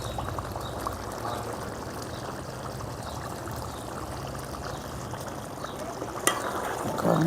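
Traditional-style mutton curry with coriander powder and garam masala simmers in a pot, giving a steady, fairly quiet bubbling hiss that continues evenly throughout, with a small clink near the end.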